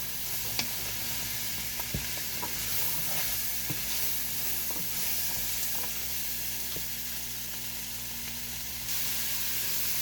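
Steady sizzling and crackling of vegetables frying in a pan, with occasional faint clinks of stirring, continuous and close throughout.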